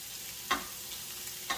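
Kielbasa sausage browning in a pan alongside sauerkraut, giving a faint, steady low sizzle broken by two brief sharp clicks, with no one talking.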